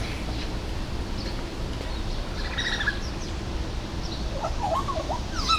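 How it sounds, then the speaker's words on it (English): Scattered chirps and whistled calls from African grey parrots at a zoo come and go over a constant low background rumble, fairly faint and somewhat distant. "So yeah, those are African gray parrots."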